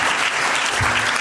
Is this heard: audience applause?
yes